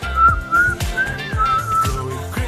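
A clear, sustained melodic whistle carries a tune within a Croatian Eurovision 2022 entry, gliding between held notes over a low, pulsing musical backing.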